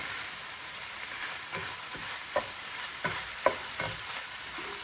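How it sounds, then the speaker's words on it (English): Vegetables get stirred into salmon frying in a pan: a soft continuous sizzle under a few distinct scraping clicks of the utensil, close and fairly quiet, with no talking. "Now I'm gonna mix my vegetable in with my salmon like that."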